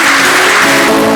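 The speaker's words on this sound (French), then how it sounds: "Sous l'applaudissement." Steady, dense applause from a crowd at a university ceremony for young graduate entrepreneurs in Beni Mellal, loud and continuous throughout.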